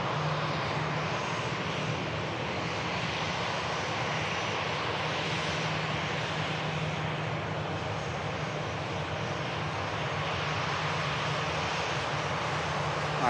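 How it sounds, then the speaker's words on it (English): A Ryanair airliner taxis and lines up on the runway at Manchester Airport, its jet engines giving a steady, loud, continuous roar with a broadband rushing hiss that holds level throughout. "Ryanair lining up"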